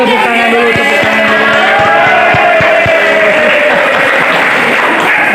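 Classroom of students applauding during a school lesson, a loud, close burst of many hands clapping continuously, with excited voices mixed in.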